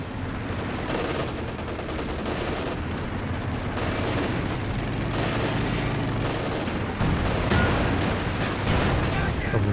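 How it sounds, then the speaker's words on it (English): Bazooka rounds slam down amid a busy Company of Heroes 2 battle, with dense, continuous gunfire and explosions running throughout, loud and close, while a voice talks over the combat. "couple of bazookas landing."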